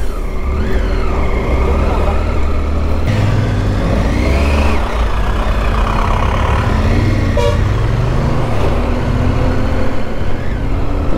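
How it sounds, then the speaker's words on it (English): Heavy highway traffic roars steadily on a four-lane road in India, with lorries passing close and loud and engines revving and droning throughout, plus a brief horn toot. "Lorry traffic, lot of lorry traffic in the last 2 kilometers."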